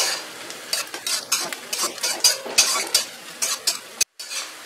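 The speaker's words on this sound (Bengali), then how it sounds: "পেঁয়াজটা ভাজতে ভাজতে আমি 2-3টে তেজপাতা দিয়ে দিলাম" Chopped onions fry and sizzle with two or three bay leaves in a pan for chicken khichuri, with a steady crackle broken by repeated scraping stirs of a spatula and a brief dropout near the end.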